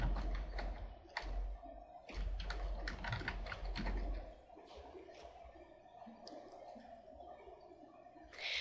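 Typing on a computer keyboard while saving a theme in Origin 8 data software, quick close keystrokes in a steady run that loosens into sparser taps, faint and alone with no talking.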